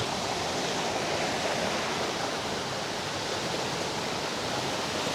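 A clean river flowing below waterfalls in Alfonso, Cavite, a dense, even rushing wash of water that holds steady with no breaks.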